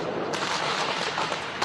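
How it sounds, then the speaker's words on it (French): Firework mortars fired by hooded youths during a street clash in Lyon, a dense, sustained roar of blasts and crackle with a sharp surge near the start, loud and chaotic with no clear pauses. "Face aux tirs de mortier de jeunes cagoulés, les militants identitaires se replient."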